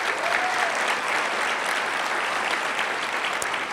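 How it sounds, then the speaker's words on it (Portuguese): A church congregation applauds for the Lord after a prayer for children's ministry, a dense, steady wash of clapping filling the room at even loudness for the whole stretch, with no voices rising above it. "Dê um aplauso para o Senhor"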